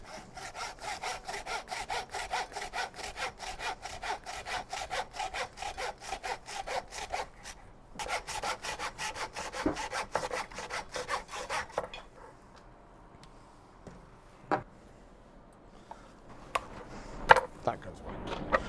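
A knife trims a rack of lamb with fast, rhythmic scraping strokes, close and steady for several seconds. The strokes then stop and a quieter stretch follows with a few sharp knocks.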